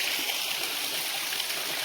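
A small jungle waterfall gives off a steady broadband rush of falling water, close and even throughout with no pauses, and no voices are heard over it.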